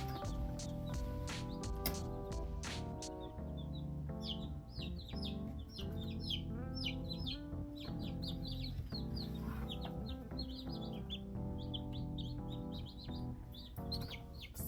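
Freshly hatched chicks, including a black chick with white markings from a Barred Rock cross, peep in a rapid, overlapping high chorus close by, with occasional louder chirps and no talking.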